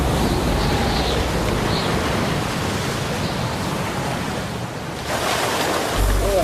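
Heavy ocean surf crashing as a powerful wall of water, a loud, continuous roar of breaking waves with steady wash and a fresh surge near the end, no voices.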